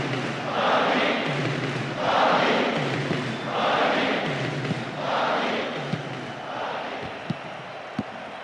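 Simulated stadium crowd noise in the football game PES 2009 rolls in steady, swelling chants and roars that rise and fall in regular waves, with a few sharp thuds near the end.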